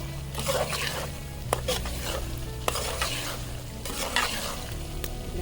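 Vegetables are stirred in hot oil in a pan while cooking in a village kitchen. A steady sizzle of frying runs throughout, with repeated scraping stirs and a few sharp clinks of the spoon against the pan, close and fairly loud.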